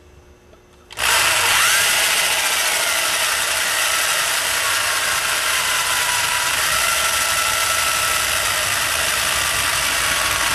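After a brief quiet moment, a power drill starts abruptly and runs loudly and continuously, grinding steadily into metal.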